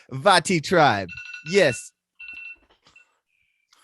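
A phone alarm reminder goes off after a short stretch of talk: a few brief, thin electronic tones in a quick cluster, fairly quiet, then scattered faint blips as the voices fall silent.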